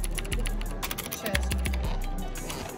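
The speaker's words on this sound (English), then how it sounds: "The keyboard sounds nice." Laptop keys tap in a small cluster of soft clicks in a store setting, heard under background chatter and room noise.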